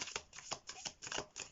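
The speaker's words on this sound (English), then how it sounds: "So let's give these cards a shuffle to have a look." Tarot cards from the Legends Tarot deck shuffled by hand in quick repeated riffling bursts, close and fairly quiet, with brief pauses between passes and no talking.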